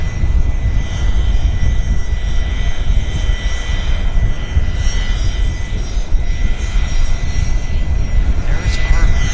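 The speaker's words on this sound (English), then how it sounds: "Our lovely WestJet's going to Edmonton." A WestJet airliner bound for Edmonton from Vancouver runs its jet engines in a loud, steady drone with a thin whine on top, close and continuous throughout.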